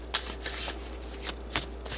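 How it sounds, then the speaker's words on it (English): Romance angel cards being shuffled by hand, a series of crisp riffling bursts and soft slaps at irregular intervals, close to the microphone with no speech. "I just started shuffling"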